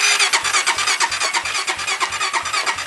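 A 2001 Honda 440 ATV engine cranks on a hot-wired starter, a loud, fast, even chugging turnover that repeats without catching, close up.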